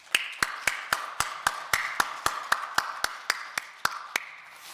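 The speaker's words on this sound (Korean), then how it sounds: "그 하나님께 박수 한번 올려 보내십시다." A church congregation claps in a steady, even rhythm, about sixteen crisp claps spaced roughly a quarter second apart, heard from a short distance with no talking over them.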